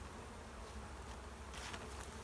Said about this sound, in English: A lot of bees will come up with it